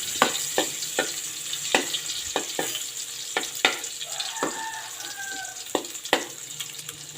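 Garlic sizzles in hot oil in a pan for squid sinigang, a steady close frying hiss broken by repeated sharp clicks and scrapes of stirring, with no talking.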